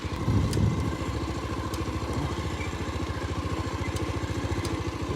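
A motorcycle engine idles close by, a steady rapid putter with even mechanical pulses throughout, slightly louder at the start.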